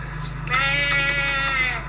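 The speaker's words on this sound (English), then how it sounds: "We then find some sheep." A sheep on a farm gives one clear, loud, wavering bleat lasting over a second, with a low steady hum underneath.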